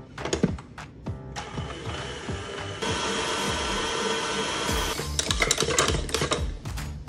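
Whipped cream and melted chocolate are whipped together, giving a steady mechanical whirring with rhythmic clattering and knocking that intensifies toward the end, with no one talking.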